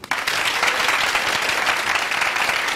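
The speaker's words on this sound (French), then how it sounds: "Applaudissez pour vous-même maintenant." Live audience at an RTB television show applauding: dense, steady clapping fills the room throughout, loud and continuous with no talk over it.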